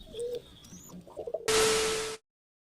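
A pet pigeon kept by a fancier gives soft low coos up close, followed by a sudden loud burst of broadband noise that cuts off abruptly.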